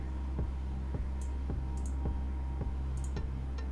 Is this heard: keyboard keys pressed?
yes